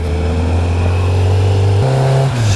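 A Yamaha FZ1 four-cylinder motorcycle engine runs loud and close while riding, holding a steady high drone that climbs in pitch, steps up sharply near the end, then drops as the throttle eases.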